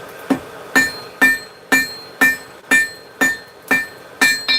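About ten evenly spaced, ringing hammer blows fall on a forge-welded piece of hot steel, loud and close with a bright metallic clang, and no talking.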